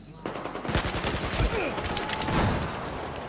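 Rapid automatic gunfire from the video game Battlefield 4, played on Xbox One, comes in dense bursts. A few shots stand out sharply above the steady rattle.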